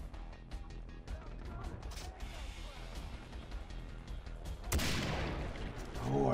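Clicking, ratcheting gun-reload mechanics in Far Cry 3, a few sharp metallic snaps among scattered gunshots and a louder burst near the end, with a voice talking over them.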